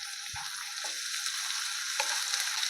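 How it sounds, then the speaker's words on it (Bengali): Chopped onion hits a little hot oil tempered with cumin seeds and starts to sizzle loudly, with a few clanks and stirring scrapes from the pan over a constant frying hiss. "জিরা ফোড়ন দিয়েছিলাম আর পেঁয়াজ দিলাম।"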